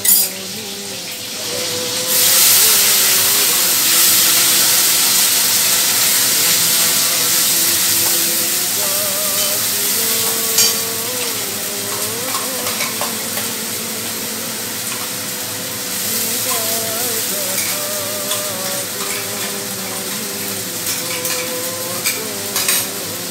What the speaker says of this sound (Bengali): এবার একটু কষাবো, যতক্ষণ কষানো হবে বুঝতেই পারবেন মশলাটা কষানো হবে আস্তে আস্তে।